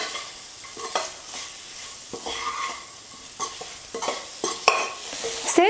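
Masala and eggplant sizzle in a pan while a spoon stirs them, a soft continuous fry broken by repeated scraping strokes and light clinks, close up and without talk.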